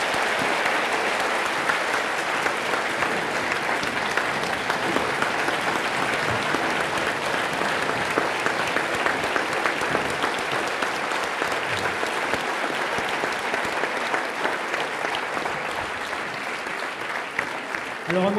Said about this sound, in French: là, vous pouvez l'applaudir très fort